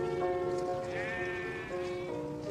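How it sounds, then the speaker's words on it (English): A Romney Marsh sheep on the Kent marshland gives one wavering, nasal bleat that rises and falls over about two seconds, moderately close against a quiet outdoor background. "the one creature that positively thrives on it is the Romney Marsh sheep"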